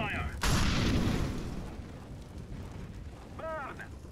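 A loud burst from an incendiary grenade landing in CS:GO erupts and roars, then the fire hiss slowly fades over several seconds, with a short voice blip near the end.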